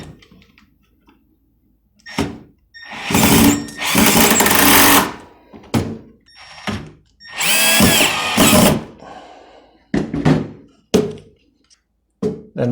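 A power drill drives screws through a box into plywood in several bursts: two long whirring runs, then a string of short quick spins and thunks, loud and close with brief quiet gaps between.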